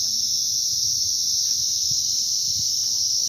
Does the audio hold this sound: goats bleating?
no